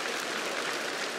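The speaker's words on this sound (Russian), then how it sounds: "Ваши аплодисменты!" A studio audience claps for a guest on a Russian comedy show, a brief, dense burst of applause with no voices over it.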